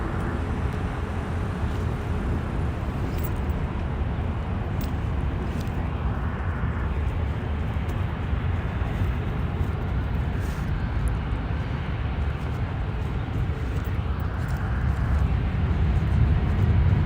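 An Aeromexico airliner departing LAX, a broad, steady jet roar heard from a distance that swells slightly toward the end, with no speech.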